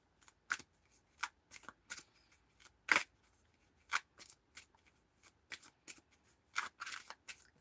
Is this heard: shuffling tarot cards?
yes